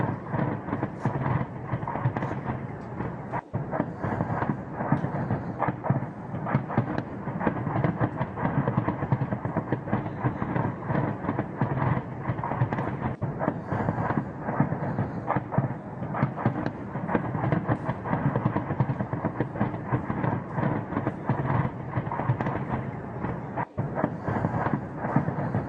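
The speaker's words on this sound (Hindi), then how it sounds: "खार्किव में लगातार जो धमाके हो रहे हैं" Bombardment in Kharkiv produces a continuous dense roar of booms and rumbling blasts, loud and sustained throughout with no clear gaps, with no voices heard.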